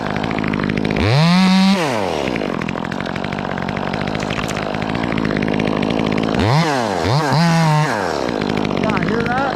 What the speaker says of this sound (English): testing out this new saw